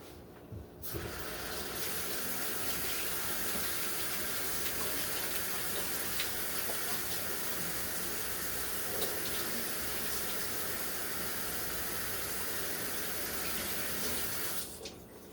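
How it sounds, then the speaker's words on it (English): A kitchen tap runs steadily while oily hands are washed after making pizza dough, giving a loud, continuous splashing gush that starts abruptly and stops just before the end. "I've got to wash this oil off"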